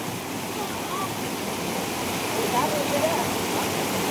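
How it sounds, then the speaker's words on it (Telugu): A fast, dangerous village river rushes in a dense, continuous roar that fills the scene steadily and loudly, with a voice faintly present beneath it. "చూడండి ఎంత డేంజర్గా వెళ్తున్నాయో వాటర్ అయితే"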